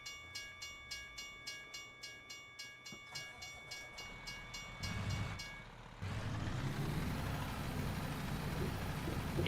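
A passing train with a steady rhythmic clickety-clack of wheels over rail joints, then a louder broad rumble as the cars go by, fairly close with no talk.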